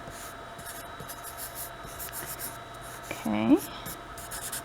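A black Sharpie marker scratches and rubs across black paper in short, quiet strokes close by, and a voice speaks briefly near the end.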